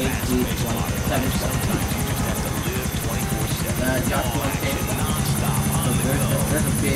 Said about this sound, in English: There's a big helicopter standing.